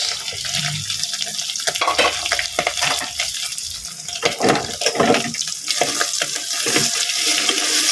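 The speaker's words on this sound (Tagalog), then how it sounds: "Halo-haloin lang natin." Tinumis ingredients, including pepper, seasoning and tamarind shoots, stirred in a cooking pot, giving a continuous wet sloshing and sizzling with repeated scraping and clacking strokes, close and fairly loud.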